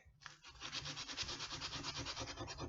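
Sandpaper rubs glue off the back of a piece of rubber in quick, rhythmic back-and-forth scrubbing strokes, close but fairly quiet, with no speech.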